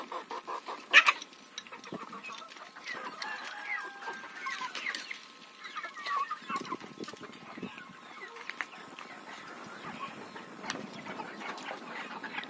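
Hens in a chicken coop on a Ukrainian farmyard cluck softly and intermittently, with scattered quiet calls and light rustling at a modest distance.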